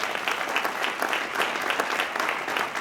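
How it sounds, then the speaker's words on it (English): Steady, dense applause from an audience at a congressional event, continuous and fairly loud from start to finish with no speech over it. "Give him a big round of applause"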